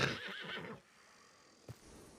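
A horse gives a short, close whinny that fades out, followed by a faint thump a moment later.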